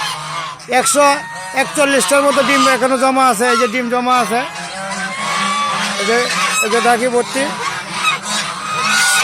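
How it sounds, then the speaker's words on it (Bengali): Large geese honking near a nest area, repeated loud calls mixed over someone speaking throughout. "আর হাঁসগুলো এখানে আছে, বড় হাঁসগুলা।"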